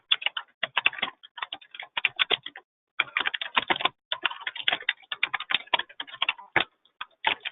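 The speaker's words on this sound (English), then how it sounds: "I believe we can hear you typing." Rapid typing on a computer keyboard, close and clear, with bursts of key clicks broken by short pauses.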